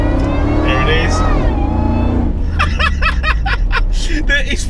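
Supercharged 430 bhp Ford SVT Lightning pickup pulling hard in second gear, a loud steady engine roar rising under continuous talk from a voice in the cab.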